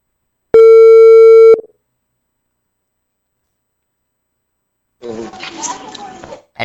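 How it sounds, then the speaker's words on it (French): A telephone call signal sounds once as a steady, loud tone for about a second while a phone call is being placed, followed by silence and then a burst of muffled, noisy voice-like sound near the end. "Attends, donner un coup de fil encore."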